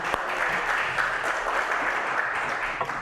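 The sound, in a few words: audience applause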